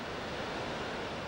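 Victoria Falls in Africa, where a mile-wide river plunges hundreds of feet into a narrow gorge, gives a steady dense roar of falling water, constant and broadband with no breaks and no voices.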